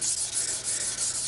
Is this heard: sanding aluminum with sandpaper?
yes